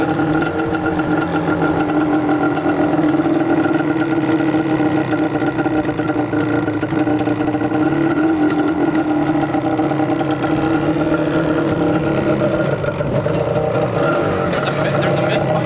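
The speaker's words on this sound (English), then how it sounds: "There's a misfire on this one" A Yamaha Banshee engine idles steadily close by with a misfire, a sustained mid-pitched buzzing drone that holds a constant level throughout with no clear gaps audible in the loudness.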